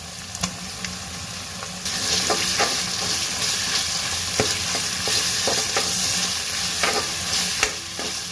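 Onions sizzle and fry in a hot pan with ginger garlic paste, a steady crackling hiss broken by repeated sharp scrapes and clinks of a spoon stirring, loud and close with no talking.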